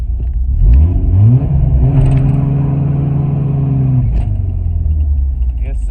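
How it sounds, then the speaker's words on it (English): A 1996 Chevy S10 drift truck's rebuilt engine revs up hard in a close, loud climb, holds a high steady roar for a few seconds, then drops back to a rumbling idle during a burnout attempt. "see if it'll do a little burnout"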